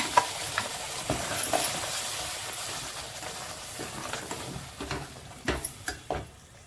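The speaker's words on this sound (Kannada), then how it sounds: "ಸೊ ನಾವೀಗ ಈಗ ರುಬ್ಬಿರುವಂಥ ಮಸಾಲೆ ಕೂಡ ಸೇರಿಸ್ಕೊಳ್ಳೋಣ" Freshly ground masala paste hits hot oil for a ladies finger masala sambar, sizzling steadily while a spoon stirs and scrapes the pan, with several sharp metallic knocks near the end, close and fairly loud.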